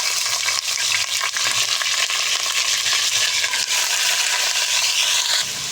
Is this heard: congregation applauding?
no